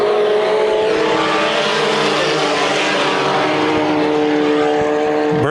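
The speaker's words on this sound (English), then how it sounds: "Green flag in air. We're racing." NASCAR dirt track race cars at Adams County Speedway in Iowa roar loud and steady as the field takes the green flag, several engines droning together at high revs in a continuous, close rumble.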